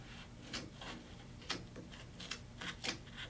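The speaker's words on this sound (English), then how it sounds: "If you're happy with it, you can go ahead and cut these flaps off." Scissors snipping through pool table cloth flaps at a corner pocket, a handful of short, crisp cuts spaced irregularly, quiet and close with no speech.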